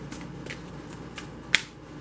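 Tarot cards being shuffled by hand, a few soft riffling swishes ending in one sharp snap as a card slaps, close and alone.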